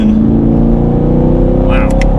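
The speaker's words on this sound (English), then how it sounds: "Nice little rev match" A 2020 Chevrolet Camaro LT1 with a manual transmission blips its V8 for a rev match while driving, a loud, deep exhaust drone with a quick throttle rise, with voices talking over it.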